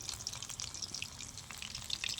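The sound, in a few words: chicken pakora frying in oil on a clay stove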